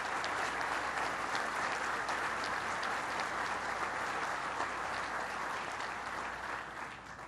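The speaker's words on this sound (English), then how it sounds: "Let's give him a round of applause, Steve Cassidy." Sustained crowd applause for Steve Cassidy at a 9/11 memorial event attended by the governor and vice president, a thick, even roar of many clapping hands lasting throughout and tapering slightly at the end, at a moderate distance.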